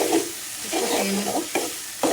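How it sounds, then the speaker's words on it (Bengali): Shrimp stirred and sautéed in a pan for a pumpkin and shrimp curry, with a constant sizzle broken by several spatula scrapes, close by. "কষিয়ে নেব"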